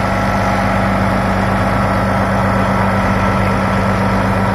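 A heavy diesel engine of a 2009 Caterpillar Challenger MT945B tractor idles steadily and loudly, a deep continuous rumble with constant vibration and no voices.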